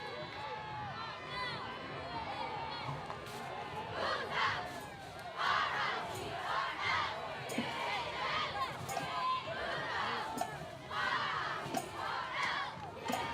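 A high school varsity football crowd at La Quinta vs. Godinez roaring and cheering before kickoff, a broad distant wall of shouting voices with swelling bursts, under an announcer's talk.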